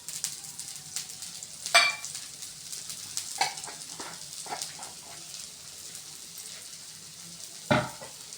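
Dosa batter sizzles in oil on a hot griddle, a steady close crackle with scattered louder pops and spatters throughout, and no voices over it.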